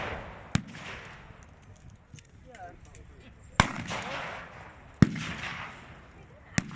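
Sharp, loud single gunshots ring out at a military show's firing display, four spaced reports with echoing tails over faint background noise.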